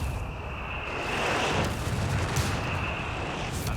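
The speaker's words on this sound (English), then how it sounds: "Ally artillery there just sort of firing at anything that remotely moves." Allied artillery pounds away in a Company of Heroes 3 battle: low, rumbling booms and blasts roll on continuously over a busy, noisy wartime soundscape at moderate loudness.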